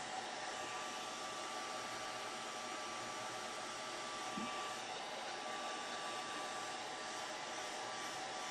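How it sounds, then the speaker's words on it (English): A hair dryer running on its low, cool setting gives a steady, even whoosh of airflow with a faint motor hum, constant and unbroken throughout. "This is a hair dryer set on low or cool."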